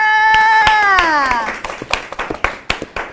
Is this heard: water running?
no